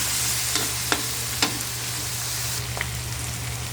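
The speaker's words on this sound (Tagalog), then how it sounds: "Nagisa na natin mabuti ang ating kamatis." Tomatoes sautéing for pinakbet, a steady low sizzle with a few sharp scraping stir strokes of a spatula in the pan, close and alone.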